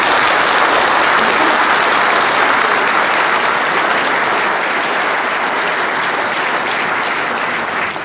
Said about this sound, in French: je crois qu'on peut l'applaudir pour la...